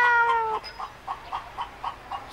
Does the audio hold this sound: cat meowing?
yes